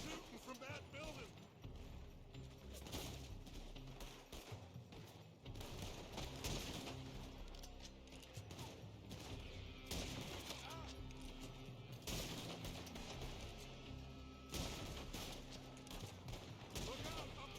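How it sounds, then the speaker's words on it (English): Gunfire crackles from a building in a Wild West video game, rapid bursts of shots in repeated volleys, with people talking under and between the firing. "They're shooting from that building!"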